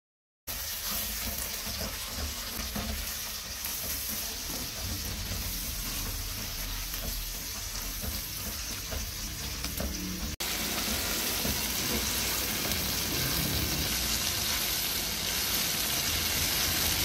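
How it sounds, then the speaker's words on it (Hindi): Masala of ground tomato and onion frying in a pan for fish salan, a steady close hiss and sizzle that runs without pause and grows louder and brighter partway through. "यहाँ पर जो है मसाला अच्छे से भुन रहा है"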